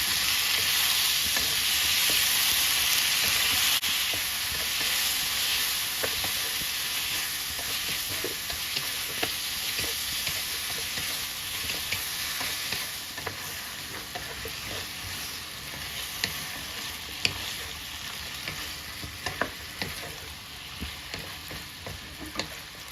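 Broccoli and shrimp stir-fried in a seasoning sauce of oyster sauce, sugar, fish sauce and light soy sauce, giving a continuous loud sizzle with scattered scrapes and taps of a spatula against the pan.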